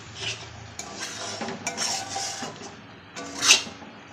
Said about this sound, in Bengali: সুন্দর করে কষাতে হবে মশলাটা